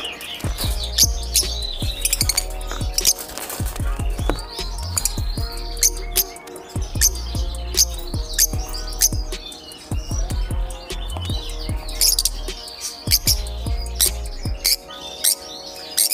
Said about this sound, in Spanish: no soy tanto de agaporni y siempre me ha echado un poco para atrás el tema de que son muy ruidosos